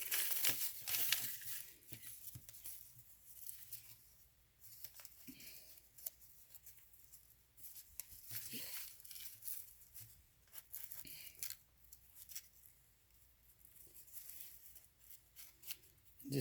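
Paper crinkles and rustles as it is wrapped tightly for a cigar roll, with repeated close crackling and soft tearing-like scrapes coming in irregular bursts, and no talking.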